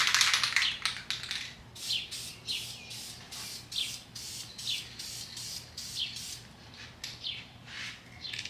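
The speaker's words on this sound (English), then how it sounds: "When I say move quickly, I mean don't stay in one spot spraying, or it will run" Short bursts of spray paint from a can laying thin coats, a quick series of faint hissing puffs with brief gaps between them.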